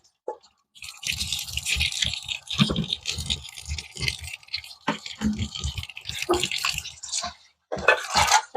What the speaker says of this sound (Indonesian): Dan harus di air mengalir seperti ini.